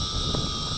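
A small XK X300 drone hums with a steady, close propeller whine while hovering and landing outdoors in wind, the drone noise continuous and fairly loud with no talking.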